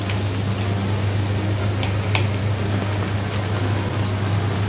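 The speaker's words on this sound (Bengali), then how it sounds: "তারপর একটু তেলে ভেজে নেব।" Ginger and garlic paste frying in hot oil for a duck kala bhuna, a steady close sizzle with a low hum beneath and a few faint scraping clicks.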